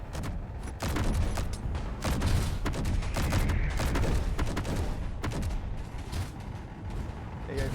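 Tank cannons fire in Space Engineers, booming in loud, rapid, overlapping volleys that continue throughout with barely a pause.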